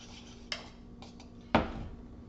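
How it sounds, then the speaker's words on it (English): A spoon scrapes and knocks against a pot while butter is stirred into thick lemon filling off the heat, with a few sparse clinks and one louder metallic clank, close and quiet, no talk. "Stir in the butter. Get it melted."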